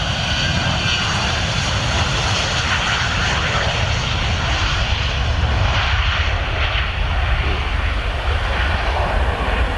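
A plane departing runway 25 at Luton Airport, a loud continuous engine roar that holds steady throughout, close and dominant.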